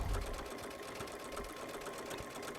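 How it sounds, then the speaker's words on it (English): A Baby Lock Solaris sewing machine with a dynamic walking foot feeds fabric through in a steady, rapid, close-up mechanical whir with a fine rhythmic chatter and no voices over it. "let the machine and that dynamic foot ease all of that fabric through this machine"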